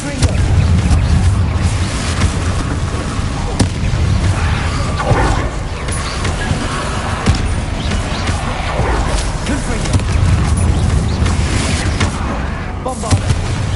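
Confringo fire spell blasts in the Hogwarts Legacy video game, a dense, continuous stretch of booming impacts and crashes layered with game effects and voices throughout.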